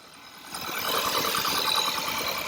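A 1.2-litre petrol car engine idles with its timing chain freshly repaired, giving a steady, even mid-pitched hum with no tapping or rattle; the level rises slightly after the first half-second and then holds.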